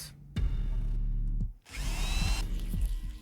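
A power drill in the horror video game Strade whirs loudly in sustained close bursts, cutting out briefly and starting again, with no talk.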